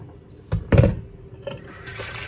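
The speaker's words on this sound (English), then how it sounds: "So when this happens, you have to keep rinsing the rice." Rice rinsed in water in a kitchen, giving short splashes and sloshing bursts followed by a softer running-water hiss, close and fairly quiet, with no talking.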